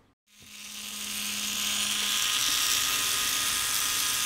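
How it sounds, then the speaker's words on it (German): A Merker & Fischer 3T12 model drive runs without oil, giving a steady, close whirring buzz that starts abruptly after a brief silence and keeps going at an even level. "Ohne einen Tropfen Öl macht es richtig schöne knarzende Geräusche, aber so läuft der Antrieb ganz ordentlich nach."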